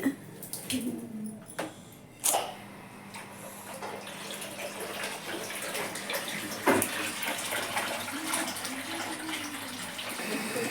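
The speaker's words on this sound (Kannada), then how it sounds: "ಈಗ ನೋಡ್ರಿ ನಮ್ಮ ಹದಿನೈದು ದಿನ ಆದ್ಮೇಲೆ ನೀರು ಬಂದವ್ರಿ ನಮ್ಮ ಮನೆಗೆಲ್ಲ" Tap water runs into a house after a fifteen-day break in supply. The flow gushes and splashes steadily at close range, with a few louder knocks and surges.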